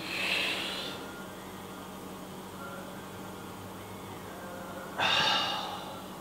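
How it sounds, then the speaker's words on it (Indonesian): Two deep, airy breaths, one at the start and another about five seconds later, with a low steady hum between them and no talking. "Pegang perut, nafas dalam."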